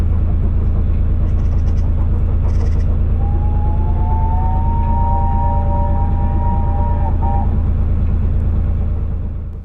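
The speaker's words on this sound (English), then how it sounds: "That was a distant steam train." A distant steam train on the Wrenbury railway line sounds a long, faint whistle held for several seconds, heard over the steady close rumble of a narrowboat engine on the Llangollen Canal.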